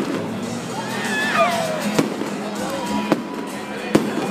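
Distant New Year fireworks in Hungary pop and crack in sharp bursts every second or so over a murmuring crowd and a sustained background hiss.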